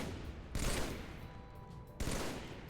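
Video game gunfire, two sustained bursts of rapid shooting that start abruptly and stand out over a quieter background din.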